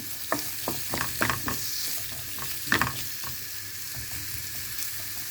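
Chopped onion fries in a little oil in a skillet for buckwheat soup, a soft steady sizzle under several scraping stirs of a utensil against the pan, close and fairly quiet.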